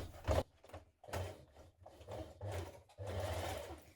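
Two pieces of a coat belt are stitched together on a sewing machine in short, uneven bursts of low mechanical whirring, fairly faint and close, with a longer steady run at the end.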